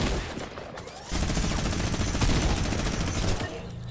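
A minigun in a video game fires one long, dense, unbroken burst that grows louder after the first second and stays loud and close throughout, with no talking over it.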